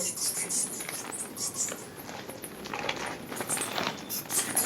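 Bats in a cave at an old fort give off a dense patter of high chittering squeaks, continuous and close, echoing faintly with no talk.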